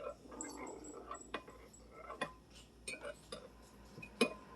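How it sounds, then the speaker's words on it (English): A spoon stirs oatmeal in a bowl, giving soft wet scraping under a series of light irregular clinks and taps against the bowl, fairly quiet and close. "And I just stir it up."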